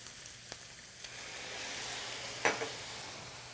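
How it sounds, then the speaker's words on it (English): Ground beef and fresh ingredients with soy sauce sauteing in a pan: a soft, continuous sizzle with a couple of faint taps and one sharper clatter of the utensil partway through. "So now I'll let this saute for an additional 3 minutes"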